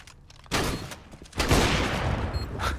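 Rapid gunfire from a competitive shooter video game match erupts in dense bursts, a sharp volley starting early and a longer, sustained barrage following, loud and close with no talking over it.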